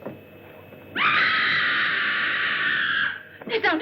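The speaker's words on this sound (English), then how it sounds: "That was a scream." A woman's high, sustained scream rings out loud and close, holding steady for about two seconds before breaking off, followed by a brief choppy vocal burst, in a 1962 horror film set on a spider-infested island.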